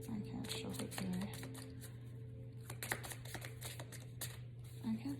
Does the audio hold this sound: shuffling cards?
yes